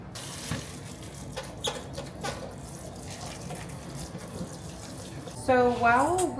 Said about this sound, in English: we're going to wash our potatoes